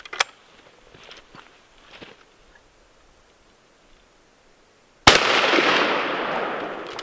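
A single loud, close blast from a 20 gauge CZ Upland Ultralight over-under, fired from the full-choke top barrel with Federal #3 buck, comes after a few seconds of quiet rustling and footsteps and trails off in a long echoing decay.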